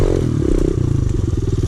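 A big bore Kawasaki KLX110 dirt bike revs hard while riding, its loud, close single-cylinder engine buzzing steadily and climbing in pitch as it accelerates.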